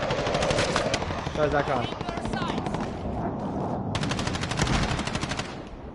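Rapid automatic gunfire in an online shooter game, dense bursts of machine-gun fire filling most of the moment with a brief pause before a final volley, while a player speaks over it.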